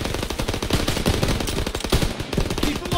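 Sustained machine-gun fire in Call of Duty: WWII rattles in fast, loud, overlapping bursts for the whole span, with no voices over it.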